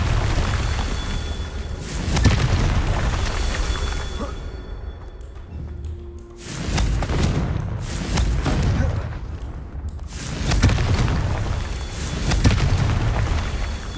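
Confringo spell explosions from the video game Hogwarts Legacy boom in four heavy, rumbling blasts spaced a few seconds apart, each swelling and decaying, with quieter spell effects between them.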